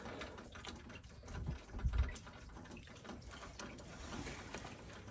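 A ratchet snugging up water pump bolts on a 3.2 VR6 engine makes faint, quick clicking strokes in short runs, with a louder clunk partway through.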